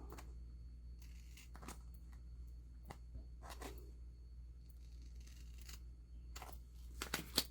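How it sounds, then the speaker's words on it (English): Cardstock being trimmed for a handmade card, soft scattered slicing and paper scraping strokes, faint and close over a low steady hum. "see if we can get this trimmed without wrecking everything"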